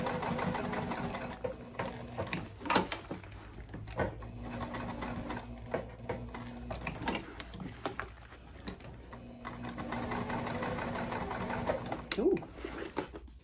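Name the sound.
sewing machine stitching a tag on a bag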